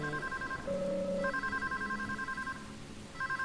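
A payphone rings in the video game Deadly Premonition, sounding as repeated electronic trilling bursts with short gaps, clear and moderately loud, with no voices.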